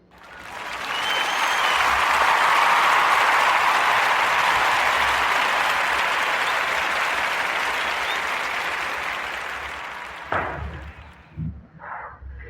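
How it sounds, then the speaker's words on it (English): A live podcast audience bursts into a long round of applause. The clapping rises quickly, holds as a loud, dense wash for several seconds and then tapers off, leaving a few scattered thumps and noises at the end. "round of applause for young Antoine Hughes and his new record"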